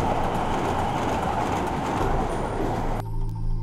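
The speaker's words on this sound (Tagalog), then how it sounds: "sobrang lapit nito sa MRT tren na pinanggagalingan ng tunog ng" An MRT train rolls past near a school in Quezon City, its wheels on the rails making a loud, continuous close rumble that cuts off abruptly near the end.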